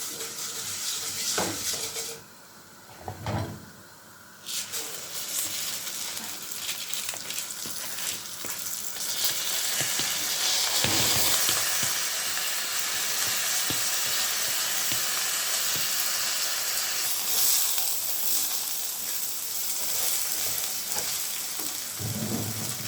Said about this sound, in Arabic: الشعريه احمرت اهي. هنزل عليها بالرز.